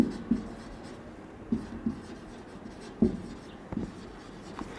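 Marker or chalk strokes on a board while working through a calculus area-under-curve problem: faint, sparse taps and short scratches, about a handful of distinct marks spread over a quiet room.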